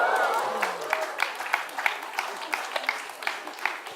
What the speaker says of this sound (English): A big round of applause for our volunteer.